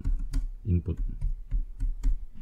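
Fingers type in quick, irregular bursts on a computer keyboard while entering text for a Java program, with close, crisp key clicks and a voice speaking over them.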